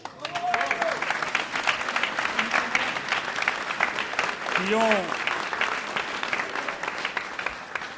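Applause from an audience at a mayor's re-election announcement in Fréjus, clapping for the municipal staff, moderately loud and continuous beneath a voice talking over it.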